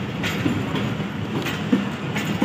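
A long passenger train pulls into Multan Cantonment railway station, a loud steady rumble with rhythmic clicks of wheels over rail joints repeating every second or so, no voices.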